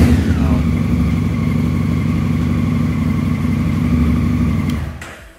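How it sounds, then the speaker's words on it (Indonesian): A Honda Africa Twin 1000cc motorcycle fitted with an Arrow exhaust revs up close by, its engine note swelling at first, then holding a loud, steady drone for about five seconds before cutting off abruptly. "itu dia tadi teman-teman suara dari Africa Twin 1000cc"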